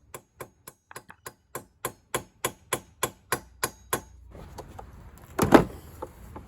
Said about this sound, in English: I'm just going to use my little anvil here and hammer it out as flat as I can get it